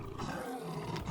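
A lion's roar sound effect for a lions' den scene: one loud, sustained, rumbling roar that fills the whole moment.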